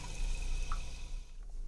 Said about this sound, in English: Toronto tap water.